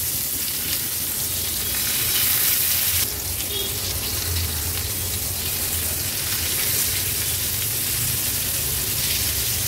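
Tomato pieces stuffed and frying in a little oil sizzle steadily and loudly in a pan, with a brief flare of hiss as pieces are turned one by one.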